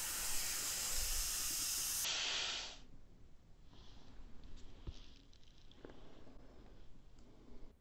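Air hisses out of a deflating blue balloon as a loud, steady rush for about two and a half seconds, then cuts off to a faint, quiet background.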